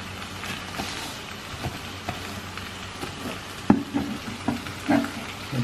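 Sliced onions fry in oil in a pan for Kerala beef liver roast, a steady soft sizzle under occasional stirring scrapes and taps, close and fairly quiet, no speech.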